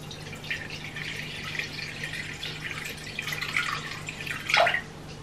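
Tepid water is poured into a bowl for sourdough, a steady soft trickling and splashing that runs for several seconds. It swells briefly near the end, over a low background hum, with no voices.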